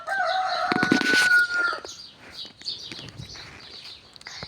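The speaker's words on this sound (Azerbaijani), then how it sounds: "Bunlar, yəni toyuq xoruzdur." Chickens and roosters on a farm crowing and clucking, with one loud rooster crow early on followed by scattered fainter clucks and chirps.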